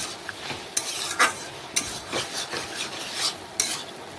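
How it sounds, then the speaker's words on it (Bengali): Bottle gourd and potato stir-fried in a wok, the spatula scraping in repeated strokes over a soft steady sizzle, each stroke a brief bright rasp, close and moderately loud with no voices. "একদম কষতে কষতে দেখুন লাউ থেকে জল শুকনো হয়ে যাবে"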